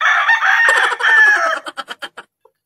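A rooster crows loudly and close, one long drawn-out call trailing into a few short clucks, then silence.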